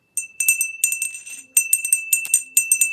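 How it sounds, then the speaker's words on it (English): A small hand bell is rung in a quick series of bright jingling strikes in irregular bursts. The ringing is close and fairly loud, and a steady high tone lingers beneath it. "This is my divine feminine bell."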